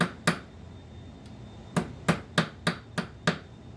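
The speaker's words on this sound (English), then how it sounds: "I'm going to take a little ball peen here. I'm just going to tap it." A small ball peen hammer taps lead weight into a Bachmann heavy-duty model flatcar: one sharp tap, a pause, then a quick run of six evenly spaced light metallic knocks, close and crisp in a quiet room.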